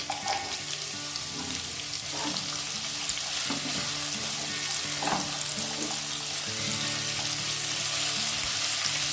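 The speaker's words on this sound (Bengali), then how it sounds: "পেঁয়াজটা সামান্য ভেজে নেব, খুব বেশি ভাজবো না, হালকা করে একটু ভেজে নেব।" Chopped onion for paneer paratha fries lightly in a pan, giving a continuous, fairly loud hissing sizzle that holds steady throughout, with a few faint clinks beneath. No voices.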